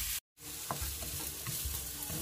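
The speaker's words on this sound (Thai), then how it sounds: "เราก็จะมาผัด พร้อมหัวใหญ่นะคะที่หั่นๆไว้เนาะ" Chopped onion and garlic are stir-fried in a pan with a close, continuous sizzle broken by scraping stirs. A brief dropout near the start cuts the sound out completely for a moment.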